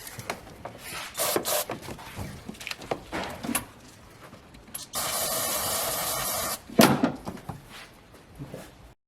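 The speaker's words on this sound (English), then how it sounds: "I've got some air intake cleaner. While I spray this through this mesh right here" A can of air intake cleaner hisses in a sustained spray burst through the intake mesh on a 3.8 3800 engine, surrounded by nearby rubbing, handling and clicking noises before and after.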